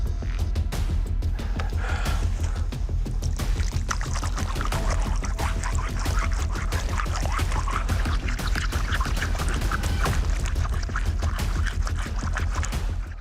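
Water poured and splashing over a stone slab in a forest, a steady broadband wash and trickle running continuously at close range, with no talk.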